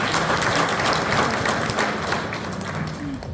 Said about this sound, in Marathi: या दोघांसाठी एकदा टाळ्या वाजल्या पाहिजे.